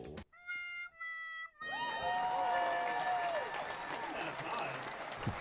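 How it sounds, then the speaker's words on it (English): Live studio audience on a talk show bursts into loud, sustained applause and cheering after a few seconds of brief tonal sounds and pauses, the clapping filling the rest of the moment. "Listen to that applause."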